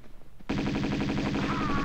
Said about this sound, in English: Oh, you're being shot.